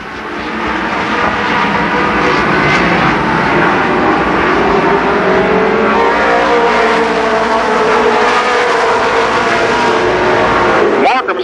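Midget race cars of the All American Midgets series circle Columbus Motor Speedway in 1991, a loud continuous engine roar with pitch swells as cars pass, a race announcer talking over it throughout.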